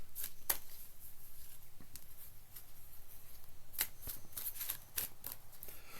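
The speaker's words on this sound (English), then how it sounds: "let me shuffle the cards here and we'll get started." Tarot cards are shuffled by hand close up, with quick riffling bursts and sharp snaps separated by brief pauses, fairly quiet overall and with no speech.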